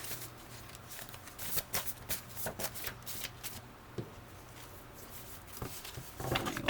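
Tarot cards are shuffled by hand close up, a series of quick papery riffles and soft slaps in irregular bursts, fairly quiet, with a louder flurry near the end and no talking.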